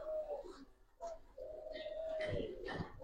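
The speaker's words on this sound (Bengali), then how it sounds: "এটা আমার বাসার কবুতর, একদম পাথর চোখে।" A Giribaz pigeon gives soft, low cooing calls close by, several drawn-out coos with pauses between them, while faint rustling and handling noises sound in the background.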